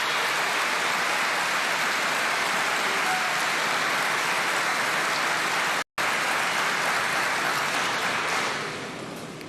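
A large crowd gives a long, loud, sustained ovation during Argentine President Javier Milei's address on 1 March 2024, a continuous roar of clapping with a brief cut partway through, tapering slightly at the end.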